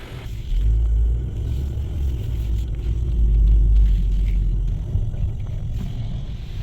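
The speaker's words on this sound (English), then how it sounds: "You put it on, you can hear the compressor running" A 2016-2019 Chevy Cruze idles with its AC compressor switched on, giving a steady, close, deep engine rumble that swells slightly midway, with no talking.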